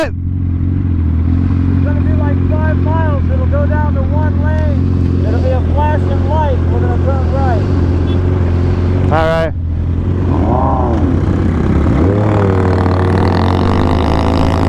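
A Yamaha R1 sport motorcycle engine under way, a loud sustained drone that climbs and falls in pitch through several gear changes with a sharp high rev burst midway, under continuous wind rush.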